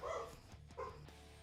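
A pet dog barks twice in quick succession, a short loud bark followed by a second slightly softer one, heard indoors with no talking.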